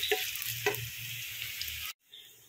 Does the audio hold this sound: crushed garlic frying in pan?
yes